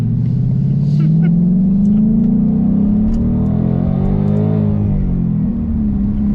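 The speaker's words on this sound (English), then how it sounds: "It revs like the Shelby, this car." Supercharged Ford Mustang with a 3.7-liter V6 revving hard, a loud close engine note climbing and falling in pitch with a rumbling exhaust, the revs rising over a few seconds and then easing off.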